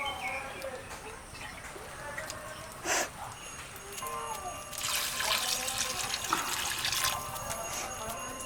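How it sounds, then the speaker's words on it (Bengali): Water poured into a cooking pan of stalk curry, a rushing splashy pour that swells in the latter half, with kitchen clatter and a brief bright clink beforehand. "এবার আমি জল দিয়ে দেবো।"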